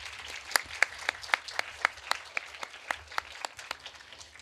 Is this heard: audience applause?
yes